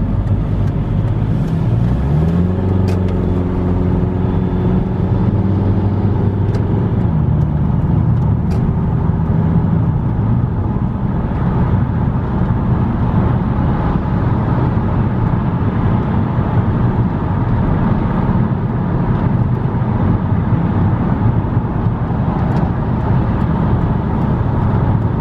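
A car engine with a turbocharger idles steadily at close range, a continuous low rumble with a faint whine, after an EGR valve, inlet manifold and turbo decarbonizing job.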